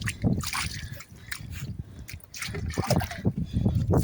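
Foot-washing water flowing and trickling nearby at a Shiva temple, uneven with small splashes, heard over a faint murmur of background activity.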